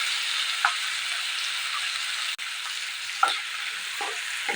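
Tomato, onion and green chili fry steadily in a pan, a continuous close sizzle broken by a few soft stirring scrapes.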